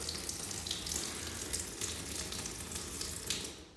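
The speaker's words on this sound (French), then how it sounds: "l'écoulement en cascade du mitigeur" Water cascades steadily from a bathroom mixer tap, a continuous close hiss and splash that runs unbroken throughout, with no voices.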